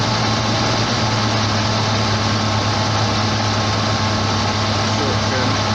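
A warmed-up car engine idles steadily, its low, constant hum and drone filling the background alongside a broad hiss, with no change in pitch and no talking.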